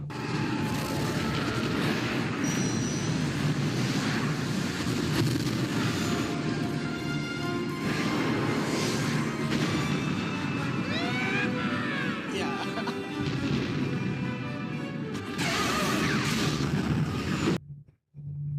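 The Death Star explodes with a fireball as Lando's ship flees in Star Wars: Return of the Jedi, a sustained roaring rumble with booming blasts, whooshing passes and dense layered effects, loud throughout before cutting off abruptly.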